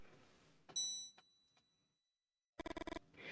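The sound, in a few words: doorbell ringing in the video game Mothmen 1966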